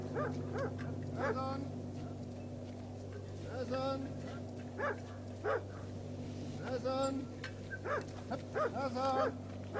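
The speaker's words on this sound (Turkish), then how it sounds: "Uzaktan bir havlama duyuluyor." Several short barks and yips from a Carpathian shepherd dog, somewhat distant, scattered in irregular bursts over a low steady engine drone.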